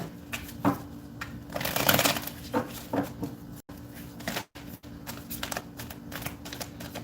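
Tarot cards being shuffled by hand during a reading, a run of crisp riffling and flicking bursts, loud and close, separated by short pauses.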